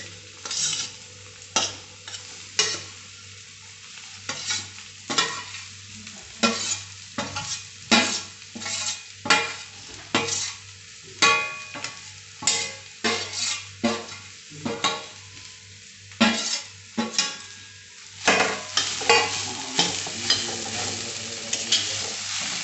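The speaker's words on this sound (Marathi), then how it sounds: "आता हे आपण चटणी परतून घेऊ." Garlic and coconut chutney sautéed in oil in a pan over medium heat, a spatula scraping and stirring in repeated strokes over a soft steady sizzle, close and fairly loud, with no talking.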